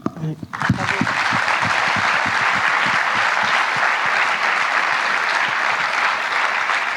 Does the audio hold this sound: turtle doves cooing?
no